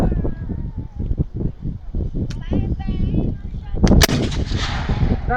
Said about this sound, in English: Now the Confederates have a 6-pound hand cannon.